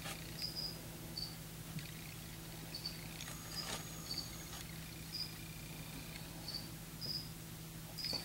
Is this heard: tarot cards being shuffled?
no